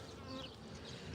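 A brief burst of steady, humming buzz from a crowd of honeybees close by at a hive.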